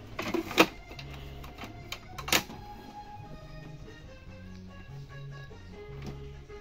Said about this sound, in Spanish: Ahora vamos a proceder a sacarle de aquí la impresora, vamos a imprimir,